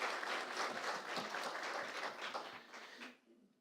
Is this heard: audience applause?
yes